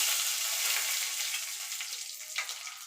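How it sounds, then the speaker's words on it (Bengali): Whole spices, two dried red chillies and panch phoron, sizzling in a little oil to temper masoor dal with drumsticks: a steady, bright crackling fry close by, with a faint stirring scrape near the end. "এবার ফোড়নটা একটুখানি ভাজা ভাজা করে নেব।"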